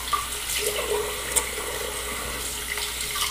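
A bathroom tap runs steadily into a sink while a razor is rinsed during a wet shave, a soft continuous splashing stream with small irregular clinks and drips near the microphone.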